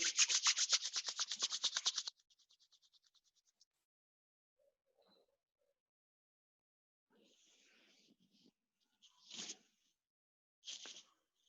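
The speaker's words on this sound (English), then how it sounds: "Rub your palms together." Palms rubbed together briskly at the start, a fast rhythmic swishing for about two seconds that slows and fades, followed by near silence and a few faint soft rustles and taps.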